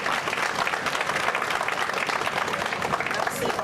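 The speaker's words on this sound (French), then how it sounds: "applaudissez s'il vous plaît." An audience at a full stand-up comedy show in Kankan breaks into steady, dense applause, a continuous wash of clapping from a sizeable crowd lasting several seconds.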